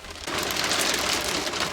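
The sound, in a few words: heavy rain pouring outside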